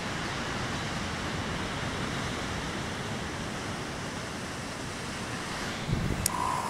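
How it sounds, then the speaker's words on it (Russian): Sea surf and wind at Anapa on the Black Sea roar in a continuous, steady wash of broadband noise with wind buffeting the microphone, and no talking. "Совсем другое море. Каждый день оно разное. Такое оно огромное."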